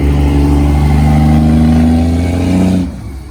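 A pickup truck at a Louisiana truck meet revs loud and close, its engine holding a steady high drone that climbs slightly before dropping off abruptly near the end.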